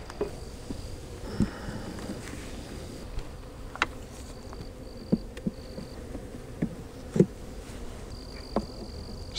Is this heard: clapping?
no